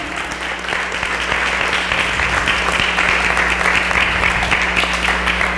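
Steady applause from a crowd, a dense continuous wash of clapping that holds at an even level throughout.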